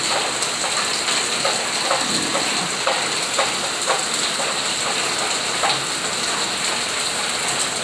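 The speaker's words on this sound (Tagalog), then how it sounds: "Siguro maghapon po ang ulan na ito guys." Steady rain pours down outdoors in the Philippines, a dense continuous hiss with scattered sharper drops tapping on surfaces close by, lasting without a break.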